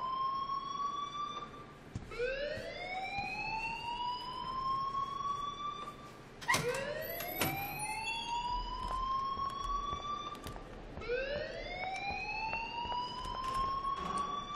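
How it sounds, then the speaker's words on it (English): An alarm in the video game Life is Strange sounds as a repeating rising siren-like wail, several sweeping cycles over a continuous noisy backdrop, moderately loud and steady. "please turn off that alarm since that's your job"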